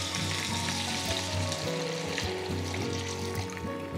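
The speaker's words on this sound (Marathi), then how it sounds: "आता यामध्ये पाणी घालायचं," Water poured into a pan of sautéed tomato, pumpkin pieces and drumsticks, a steady close sizzle with trickling and bubbling that continues for several seconds, with no talk.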